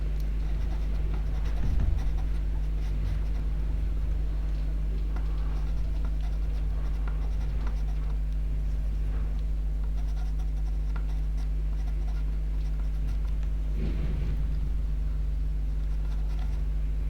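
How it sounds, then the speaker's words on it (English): Pastel pencils scratching across paper while drawing an owl, a close, soft, continuous scritching of strokes with small taps and pauses over a steady low hum, and no talking. "I can just use the pastel pencils to come in and try and accentuate some parts of this."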